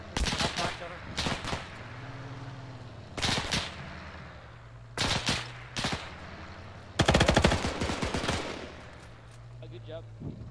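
Half-track machine gun fire in the Arma 3 video game comes in several loud bursts of rapid shots separated by pauses, with a longer burst near the end, over a low engine drone and faint radio-style voices.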